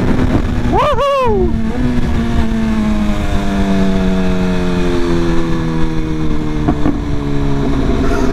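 BMW S1000RR sport bike cruising through Manhattan streets, its engine droning loud and steady with rising and falling pitch as the rider shifts, a brief rev near the start, wind rush constant throughout.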